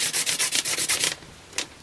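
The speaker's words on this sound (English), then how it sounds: "where I am doing the sanding" Close, loud hand-sanding of a small wooden holiday ornament, with about eight steady back-and-forth rasping strokes, a pause, then one more short stroke, and no talking.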